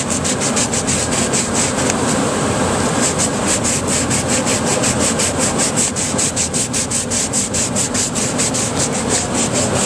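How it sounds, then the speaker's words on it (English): Rough wooden edges being sanded by hand with 120 grit sandpaper, loud rapid back-and-forth rasping strokes in an even, continuous rhythm close up. "you want to sand the rough edges out with 120 grit sandpaper"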